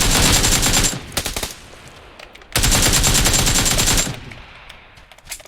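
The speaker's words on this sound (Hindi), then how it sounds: "मैं कहाँ गोली चला रहा हूँ?" Automatic gunfire in PUBG PC Lite erupts in loud, rapid bursts: a long volley, a short stutter, then another sustained volley. Quieter gaps and scattered distant shots fall between them, with no speech.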